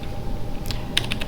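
Keystrokes on a computer keyboard while entering a command into a terminal, a few quick clicks clustered near the end over a low steady room hum, no voices.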